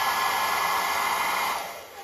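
A hair dryer blows steadily on a freshly washed, soaking-wet Westclox Big Ben Style 7 clock movement, a loud continuous whoosh that eases off slightly near the end, with no talking.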